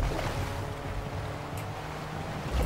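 A vehicle in Fortnite drives through water, giving a steady, moderately quiet rush of splashing and churning that sounds like surf, with no voices over it.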